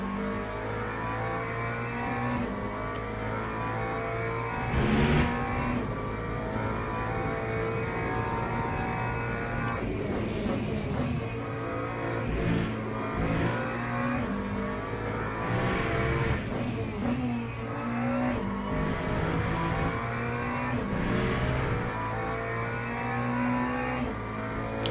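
A race car laps a track in Le Mans Ultimate, its engine droning steadily and loud throughout, with revs rising and falling through gear changes and corners.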